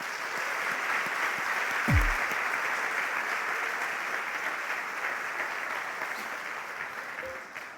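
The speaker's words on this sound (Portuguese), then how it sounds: "Você pode aplaudir ao Senhor?" A church congregation applauds during a worship service, a sustained, even wash of many hands clapping that fills the whole stretch and fades slightly toward the end.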